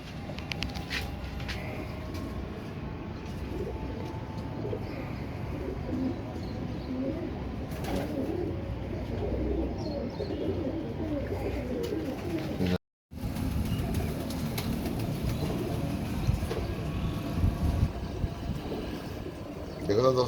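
Pigeons in a loft coo softly in low, repeated murmurs under a continuous rumble of background noise, with someone talking nearby and a brief dropout partway through.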